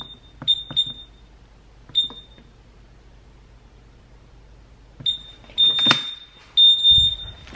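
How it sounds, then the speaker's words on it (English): Home security alarm keypad gives short high beeps while being set, first a few scattered chirps, then a quiet stretch, then a busier run of beeps with some handling noise near the end. "I'm about to set the alarm."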